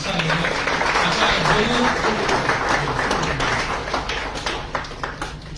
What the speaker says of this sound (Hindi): तालियां बजती रहेगी तो अच्छा लगेगा